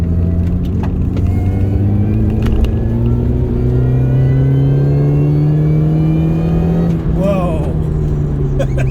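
A Mini Cooper S GTT220 engine pulls steadily up to around 4,000 RPM, a loud, close droning rise in pitch heard from inside the car, with road rumble beneath and a person speaking over it.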